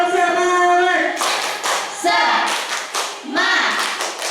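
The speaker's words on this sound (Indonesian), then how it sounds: "Tepuk semangat." A class of students does a rhythmic spirit clap, with bursts of group clapping in a patterned beat alternating with loud chanted voices, close and energetic.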